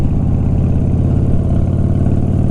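A Harley-Davidson motorcycle engine runs at a steady idle close by, a loud, low, even rumble with a regular pulsing throb and no talking.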